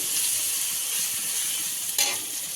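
Spices frying for a jackfruit and prawn curry, a continuous hiss of sizzling oil up close with one brief louder stir or scrape near the end.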